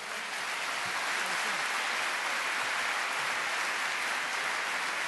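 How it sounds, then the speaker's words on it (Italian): A large audience at a business assembly applauds steadily, a dense, even wash of many hands sustained at a moderate distance with no pause and no voices over it. "Questo applauso mi sembra piuttosto sincero."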